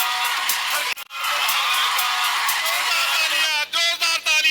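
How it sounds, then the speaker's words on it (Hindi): Crowd at a Congress party Jan Aakrosh rally in Radaur, Haryana, cheering and clapping loudly and continuously, with whoops and shouts rising near the end and one short break early on. "जोरदार तालियां"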